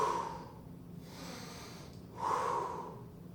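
Heavy exhales during an abdominal crunch exercise in a HIIT fitness class: two strong, breathy pushes of air about two seconds apart, close to the mic.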